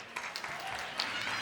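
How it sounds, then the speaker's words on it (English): An audience at a Chabad women emissaries' gathering gives brief applause, a short burst of fairly faint clapping with a few sharper claps. "Does she get an applause?"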